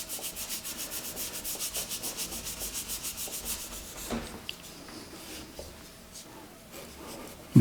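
A brush scrubs oil paint onto canvas in quick, rhythmic back-and-forth strokes, close and scratchy, then slows to softer, scattered dabs and rubs.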